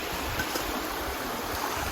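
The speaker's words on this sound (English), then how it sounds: "Washing our face in the river." A river in the Brecon Beacons flows in a steady, close rushing wash of water, with no talking.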